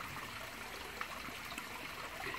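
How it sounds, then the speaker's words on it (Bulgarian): A small waterfall of constantly circulating water in a garden pond gives a steady, close splashing trickle that runs evenly throughout with no talk. "там има едно малко водопадче. Водопадчето е от постоянно циркулираща вода."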